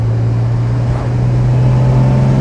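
A 1962 Jaguar E-Type Series 1 3.8 Roadster drives along with a steady, loud engine drone and a low constant hum, holding an even note throughout with no voices.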